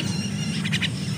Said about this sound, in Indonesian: Nah, ini anakan burung ini, anakan pentet, anakan jelak kebu